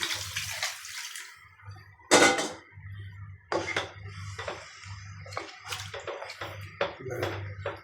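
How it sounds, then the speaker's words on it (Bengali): Water pours in short bursts into a metal pan cooking kingfish with pumpkin greens, with clinks of a utensil against the pot and a low steady hum underneath. "একটু জলের পানি দিয়ে দিই"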